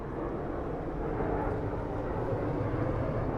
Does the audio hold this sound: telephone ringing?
no